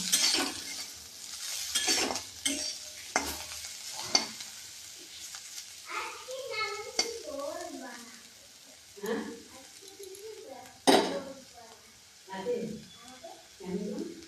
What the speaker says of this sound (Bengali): এবার আমি একটু পরিমাণ মতো লবণ দেব দেওয়ার পর আমি এটাকে একবার নেড়ে চেড়ে নেবো